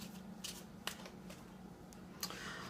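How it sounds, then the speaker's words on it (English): Tarot cards illustrated by Pamela Colman Smith and recolored by Mary Hanson Roberts are shuffled by hand: soft, faint riffling bursts recur irregularly, a few sharper snaps among them, over a quiet low hum with no talking. "I am going to continue to shuffle the cards just a bit more until I feel they are ready for a cut."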